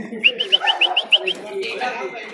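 A bird gives a quick run of repeated, evenly spaced chirping calls, about eight notes, followed by softer calls and background noise.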